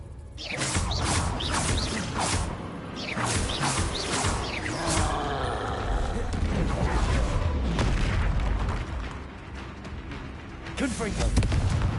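Confringo and Bombarda spell blasts in Hogwarts Legacy, a rapid series of sharp booming bursts and crackling impacts over busy game effects, with a voice talking over much of it.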